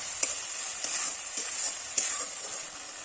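Chilli and turmeric powder sizzle in oil in a pan while being stirred for an egg and potato curry, a steady close hiss with a few soft scraping stirs.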